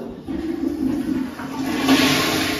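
A toilet flushes up close, its rushing water swirling loudly for a couple of seconds before starting to drain.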